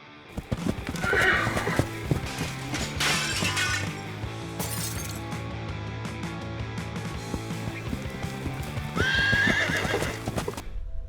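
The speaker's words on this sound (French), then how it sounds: "Un cheval entre dans un bar et détruit complètement l'endroit." A horse inside a bar whinnies loudly amid clattering hooves and crashing, shattering glass as it wrecks the place, with a second neigh near the end.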